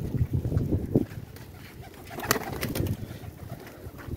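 High-flyer pigeons in a rooftop loft coo in low, throaty bursts, close by, mixed with soft rustling and shuffling as the birds move about, with no talking over them.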